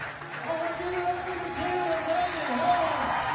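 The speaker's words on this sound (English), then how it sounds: "Michaela gives the audience a round of applause too, says thanks." Applause from the Pittsburgh crowd at a USA Climbing national cup competition, a steady patter of clapping that swells toward the end while a voice talks over it.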